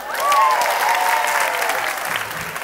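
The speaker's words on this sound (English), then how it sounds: "So a round of applause for yourselves." A graduating class applauds at an evening graduation ceremony, a loud, steady wash of many hands clapping for nearly three seconds with a faint whistle-like tone rising over it.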